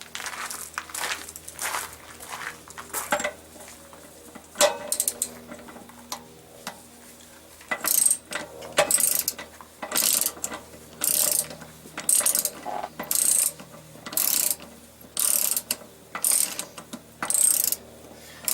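A 1 1/8 inch socket on a ratchet wrench loosens the anode rod of a Suburban SW6DE RV water heater, sounding as close, crisp bursts of rapid ratchet clicks in a repeating rhythm with short pauses between.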